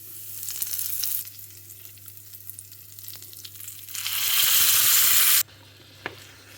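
Chana dal, urad dal, asafoetida and curry leaves sizzle in hot oil as a tempering for a brinjal side dish; a steady crackle swells into a loud, hissing burst, then drops back to a quieter fizz.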